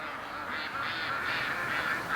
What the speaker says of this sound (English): I hear a lot of quacking.